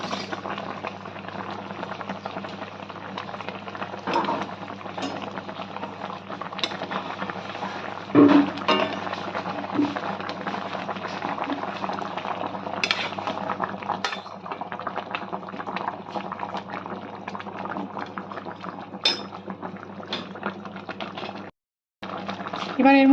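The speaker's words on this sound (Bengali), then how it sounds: "ঝোলটা আমাদের ফুটে গেছে, ঠিক এই সময় আমাদের ভেজে রাখা বেগুনগুলো আমরা এতে অ্যাড করে দেব" A Bengali mustard-based khoira fish curry boils in a pot as fried eggplant pieces are added and stirred, giving a steady bubbling simmer with clinks of utensil against the pan, under occasional talk.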